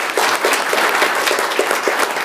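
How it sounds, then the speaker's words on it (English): An audience at a school board meeting applauds the maintenance staff, a steady burst of many hands clapping in an indoor hall for a couple of seconds. "Did y'all want to clap for the maintenance?"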